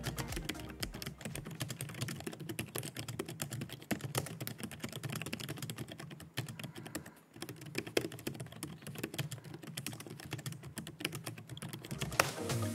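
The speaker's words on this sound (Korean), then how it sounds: "로지텍 MX는 좀 더 중후하고 고급스러운 타건감을 보여줬습니다." Continuous typing on a Logitech MX Keys keyboard, a rapid, dense run of soft, muted keystrokes with a deep travel feel, heard close and steady with only a brief pause midway.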